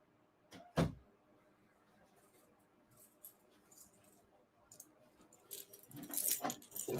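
A dog moves about nearby with jangling keys or tags, giving a sharp metallic rattle early on and a longer burst of jingling at the end, with quiet room noise in between.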